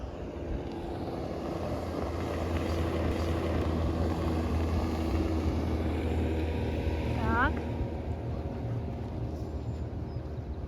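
A motorboat engine drones steadily on the water near Ann Arbor at a carp fishing camp, a continuous low hum running throughout, loud and close, with a brief faint chirp partway through.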